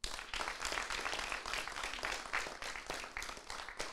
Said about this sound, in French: 205 points. On les applaudit.